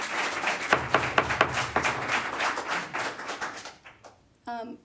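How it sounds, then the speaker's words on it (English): An audience at a school board meeting claps in a short burst of fairly close applause that fades out within a few seconds. A voice follows briefly at the end. "If you continue to clap, I will have people out of the room"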